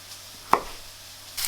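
A single sharp knife chop through a broccoli head on a cutting board, close and crisp, standing alone in a quiet kitchen with a faint rustle at the end.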